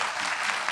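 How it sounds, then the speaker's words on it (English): Applause from a panel-discussion audience at a Black speculative fiction event, a steady dense wash of clapping filling the whole short moment. "please join me in a round of applause for our panelists"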